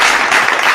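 A brief, loud burst of dense applause, a continuous wash of many hands clapping together, lasting under a second during a podcast episode.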